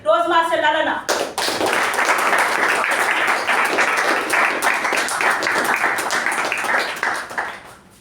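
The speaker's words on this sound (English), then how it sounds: "with a huge round of applause" A brief voice, then a large Toastmasters club meeting audience breaks into loud sustained applause that fills the room for several seconds before tapering off at the end.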